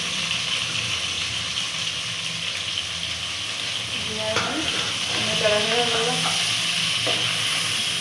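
Onion and garlic frying in a pan give a steady, loud sizzle that runs throughout, with soft stirring scrapes and a faint voice partway through.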